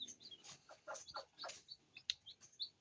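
A hen with her young chicks gives soft, thin cheeps and a few clucks, faint and close, in short scattered bursts with no voices.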